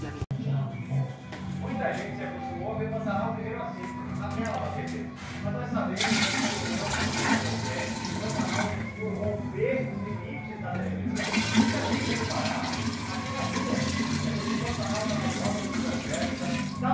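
Boiled hot water is poured from a bucket into a clogged toilet in a home bathroom, giving a rushing splash of water in two bursts over steady background noise, with someone speaking Portuguese.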